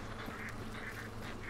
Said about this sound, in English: Hey, ducks.